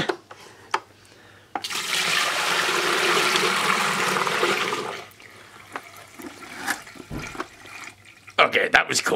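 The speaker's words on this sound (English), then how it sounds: "Let's pour some water in and see what happens." Water poured into a homemade low head water turbine rushes and splashes loudly for several seconds near the mic, tapering into trickles and drips with brief clatters afterward.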